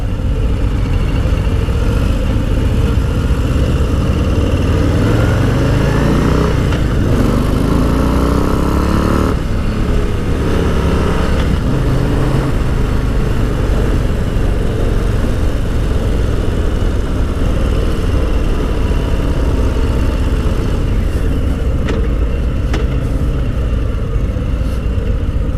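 Harley-Davidson Low Rider S motorcycle engine while riding, a loud, steady rumble heard up close, with audible rises and falls in revs and gear changes throughout.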